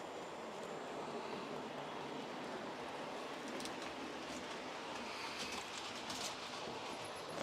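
A Hornby Railroad TTS class 47 model locomotive runs steadily along its track, a continuous close whirring rumble with light rail clicks throughout, and no talking over it.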